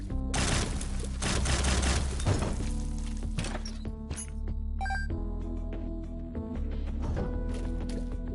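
Rapid shots firing in The Binding of Isaac, a dense burst of percussive game effects with splats and crunches, loud and continuous over a steady music bed, easing into scattered hits later on.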